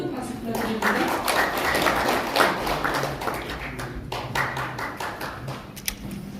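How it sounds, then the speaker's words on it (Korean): Sustained clapping from a crowd, steady and dense throughout, with some voices mixed into the background. "여러분 박수 부탁드립니다."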